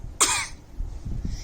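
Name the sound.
reader imitating a baby dragon's cough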